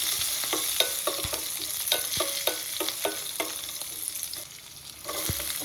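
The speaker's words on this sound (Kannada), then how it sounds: "ಸ್ವಲ್ಪ ಫ್ರೈ ಮಾಡ್ಕೋಬೇಕು." Mustard seeds, cumin, coriander and chillies fry in hot oil for North Karnataka avalakki, giving a steady close sizzle broken by sharp repeated pops and crackles and the odd stir.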